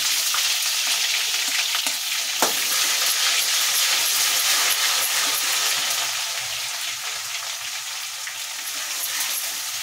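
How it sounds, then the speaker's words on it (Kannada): Green chillies and ginger-garlic paste fry in a pan for vegetable fried rice, giving a steady, loud broadband sizzle throughout with one sharp spatula tap near the start and no voices. "ಹಸಿಮೆಣಸಿನ್ಕಾಯಿ ಚೆನ್ನಾಗಿ ಫ್ರೈ ಆಗಬೇಕು. ಬೆಳ್ಳುಳ್ಳಿ ಶುಂಠಿ ಪೇಸ್ಟ್ನ ಸೇರಿಸ್ಕೊಳ್ಳಿ."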